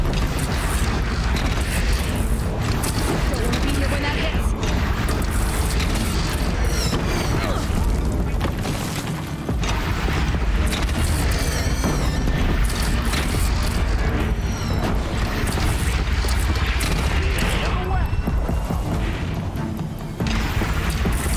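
Cannons fire repeatedly during the final city-defense mission of Horizon Zero Dawn, a dense, continuous barrage of deep booms and crashes layered over constant battle noise for about twenty seconds.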